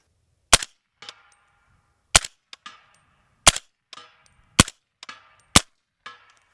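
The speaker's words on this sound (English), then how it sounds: "you should be able to see the bullets fly into the steel" Five sharp suppressed shots from an AB Suppressors Warthog 7.62 rifle, each followed a beat later by a ringing clang of the bullet striking a steel target, spaced about a second apart at mid distance.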